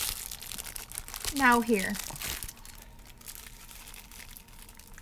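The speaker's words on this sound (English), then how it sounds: "It's like a candy wrapper." Crinkly plastic candy-wrapper-like material with a small sticky tab, crumpled close to the microphone in a short loud burst, with a person talking over it.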